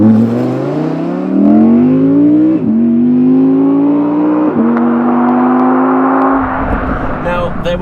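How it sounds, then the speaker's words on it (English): A naturally aspirated V10 engine in an Audi R8 RWD Performance Edition revving hard, rising in pitch repeatedly with brief dips at each gear change, loud and close. "a naturally aspirated V10 engine that sounds like this."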